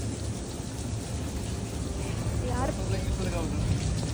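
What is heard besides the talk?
rain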